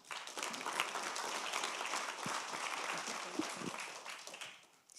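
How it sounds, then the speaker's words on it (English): Warm applause from an awards-ceremony audience greeting an MEP presenter, moderately distant steady clapping with a few sharper individual claps, tapering off toward the end. "please give a warm applause to MEP Massimiliano Smerio"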